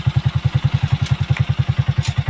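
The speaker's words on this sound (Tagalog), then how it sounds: "Napalaban ang ating motor." A motorcycle engine labours up a steep road with a loud, close, rapid and evenly spaced thumping beat that holds steady throughout, with no voices.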